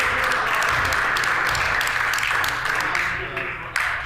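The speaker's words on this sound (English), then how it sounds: "I'd love for everyone to give him a round of applause" Applause in a provincial legislative house: a steady wash of many hands clapping together for about four seconds, fading slightly near the end before a brief final burst.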